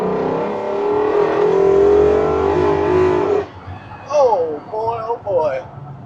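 A 1977 Ford F100 short-bed pickup with a swapped Coyote V8 revs hard and roars up through the gears up close, then drops away as people whoop and talk excitedly.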